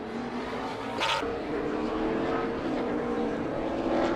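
NASCAR race cars, including Kyle Larson's and Chase Elliott's, run 2017 qualifying laps on track, with a steady engine roar that builds slightly and holds, plus a brief sharper burst of noise about a second in.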